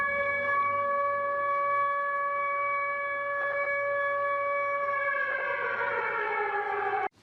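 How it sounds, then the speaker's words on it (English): A loud, steady air raid siren in Ukraine wails continuously with a droning tone, its pitch starting to slide downward near the end before cutting off abruptly. "was still unfurled to the sound of an air raid siren"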